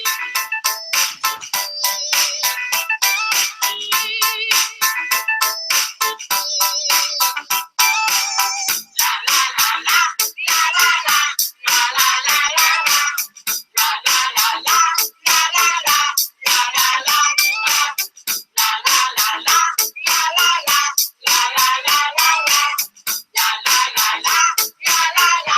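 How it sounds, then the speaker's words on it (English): Bright, repetitive electronic song in a ringtone-like style, played as a break during a US History Regents review stream, with loud, evenly pulsing notes running steadily throughout and no talking. "I think I'm going to play a song for 30 seconds"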